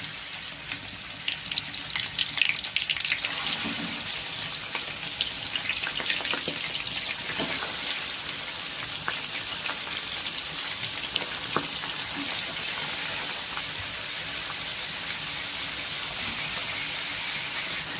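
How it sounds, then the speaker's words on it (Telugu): Cleaned chicken pieces hit hot oil in a pan, raising a loud, steady broadband sizzle that swells after the first few seconds and holds unbroken to the end, with no voices. "ఆయిల్ హీట్ అయిన తర్వాత క్లీన్ చేసి పెట్టుకున్న చికెన్ అయితే వేసుకుందామండి"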